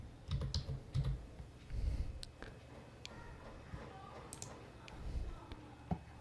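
Quiet, scattered computer keyboard key presses while a file name is entered in Photoshop on a computer, short bursts of soft clicks with pauses between them and faint room background.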